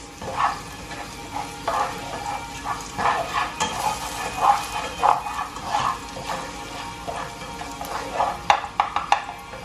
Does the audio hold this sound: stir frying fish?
yes